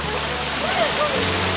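A waterfall in the Thai jungle roars with a steady, broadband rush of falling water, filling the scene at moderate distance with no break in the sound.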